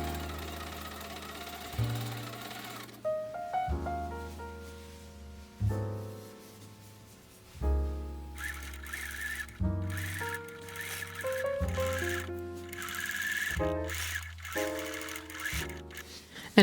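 A domestic sewing machine stitches costume fabric pieces right sides together, running in repeated bursts of steady motor whir and needle rattle with short pauses between seams.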